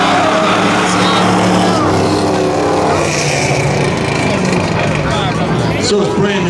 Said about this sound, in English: So it's brand new mufflers in that Camaro that made that happen.